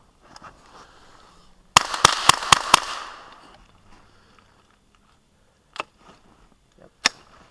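A Henry AR7 .22LR rifle fires a quick string of five sharp cracks in rapid succession, followed after a few seconds by two more isolated shots, all fairly close, with faint background murmur between them.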